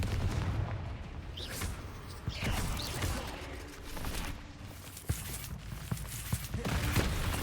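The Confringo fire-blast spell in the Hogwarts Legacy video game lands as heavy booming bursts amid ongoing combat noise, with several sharp impacts spread through the fight.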